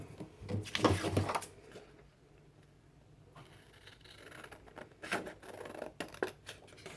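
Scissors snip through paper close by while making kitchen magnets, a few crisp cuts at the start and a quicker run of short snips near the end, with a quiet pause between.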